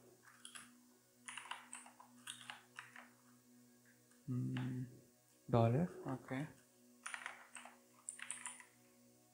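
A computer keyboard is typed on in quick clattering bursts while someone working in a Linux terminal talks quietly in between.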